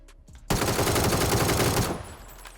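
Rapid automatic gunfire in the video game PUBG, a loud sustained burst of shots lasting about a second and a half after a brief quiet start, with no talking.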